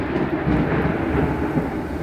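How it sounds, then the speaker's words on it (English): Thunder from a storm rolls in a loud, continuous low rumble with wind and rain noise, heard alone without talk. "Oh, you heard that thunder,"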